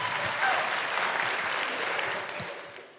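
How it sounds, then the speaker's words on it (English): A large live audience in Manchester cheers and applauds loudly at a comedy podcast recording, a dense, steady roar of clapping and whoops that holds for nearly three seconds before starting to fade. "That's going to be awkward to edit with that massive cheer."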